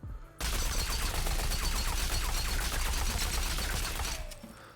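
Automatic rifle fire from the Rogue Company shooter game rips in one continuous burst of rapid, loud, close shots lasting about four seconds before cutting off abruptly, with no speech.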